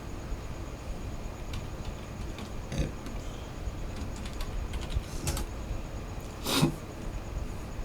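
Typing on a computer keyboard, with quiet, close key clicks at an irregular pace over a steady room hiss and a couple of louder bumps.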